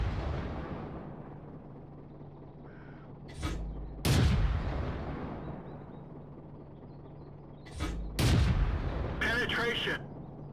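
A Churchill VII tank gun fires twice in World of Tanks. Each heavy, booming shot is preceded by a shorter click or thud and followed by a long fading rumble over a low background hum.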